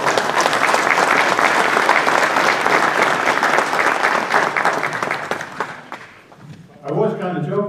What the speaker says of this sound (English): How about a round of applause for the kids?